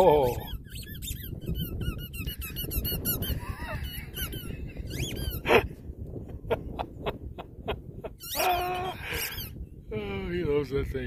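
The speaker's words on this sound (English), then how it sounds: "nice squeaky ball" A dog's squeaky toy ball squeaks repeatedly in quick irregular bursts of shrill, high-pitched squeals, close and loud, while people talk over and between the squeaks.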